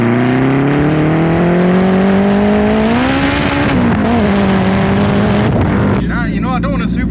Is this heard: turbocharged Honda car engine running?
yes